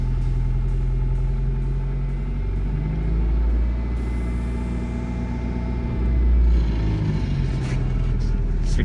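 A cheap manual Holden Barina with a badly worn clutch pulling away in first gear, a steady loud low engine drone heard from inside the cabin, rising slightly as it moves off, with no talk.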